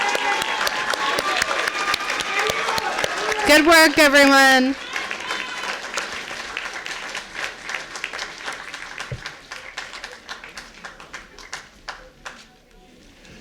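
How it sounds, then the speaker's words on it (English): Audience applause honors a graduating nursing class at a white coat ceremony, with dense clapping and cheering at the start, a short exclamation over it, then thinning claps fading under brief speech. "Round of applause."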